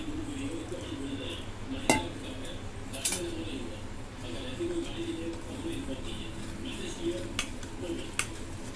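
A spoon works biscuit powder and milk together in a bowl, scraping softly with a few distinct clinks against the sides, while someone talks throughout.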